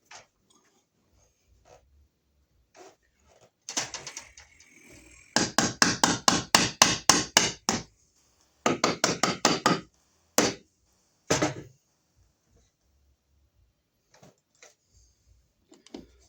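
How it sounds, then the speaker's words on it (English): Screws on an electrical box are driven tight into a wall, heard as close, rapid bursts of sharp ratcheting clicks from a driver in quick runs, separated by pauses and faint handling noise. "Tighten our screws up, and you feel the little wings tighten up behind there."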